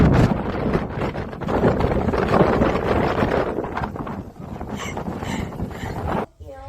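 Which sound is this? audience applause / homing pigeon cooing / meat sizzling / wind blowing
wind blowing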